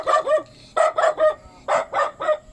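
A dog barks in three quick bursts of two to three yaps each, close and fairly loud, with short pauses between the groups and no talking over them.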